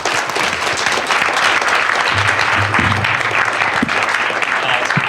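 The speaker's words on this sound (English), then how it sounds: "Give him a round of applause." An audience applauds a speaker on a new talent panel at the Thought Bubble 2019 comics festival, with steady, full clapping that fills the room for several seconds and a low rumble underneath.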